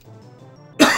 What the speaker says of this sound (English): I apologize, I'm gonna be coughing a little bit this evening.